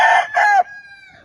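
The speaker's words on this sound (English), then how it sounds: "This is a sweater rooster." A Sweater roundhead gamefowl rooster, a bull stag nearly two years old with black spurs, crows once up close: a loud two-part call trailing into a long fading tone.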